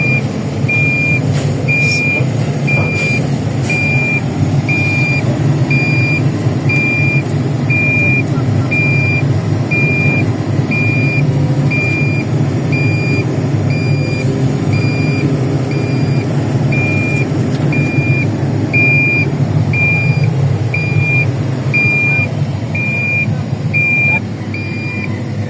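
An excavator's reversing alarm beeps steadily and evenly throughout, loud and close over a continuous engine rumble, with no speech.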